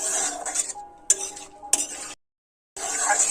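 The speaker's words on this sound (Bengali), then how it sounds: "আরও এক থেকে দু মিনিট খুব ভালোভাবে নাড়াচাড়া করে কষাই করে নিতে হবে" Bottle gourd and potato pieces stir-fried with bay leaves, heard as a few bursts of a spatula scraping and clattering against the pan with a faint sizzle, split by a short silent gap.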